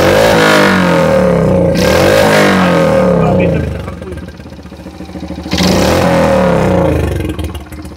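A custom Honda Super Cub with a one-off muffler exhaust revs up loudly, drops to a rough idle for a moment, then revs hard again, close by with no talk.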